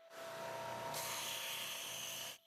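An electric sander whines steadily while a dust extraction vacuum pulls away the dust, a continuous high-pitched motor tone that brightens partway through before cutting off at the end.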